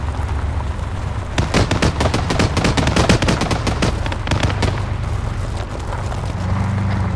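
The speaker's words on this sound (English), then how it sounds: "he's shooting at me with small arms" Rapid small-arms gunfire in a military video game, a dense burst of sharp cracks and automatic volleys running for several seconds at close range, with no talking over it.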